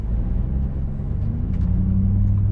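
A car drives along a road with a deep, steady low rumble of engine and tire noise heard from inside the cabin, loud and continuous, with no talking.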